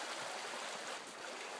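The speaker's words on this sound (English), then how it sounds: "this is our beautiful creek that we're gonna sail our boats through" Water from a creek where paper sailboats are floated rushes in a steady, broad hiss, close and unbroken, with no voices.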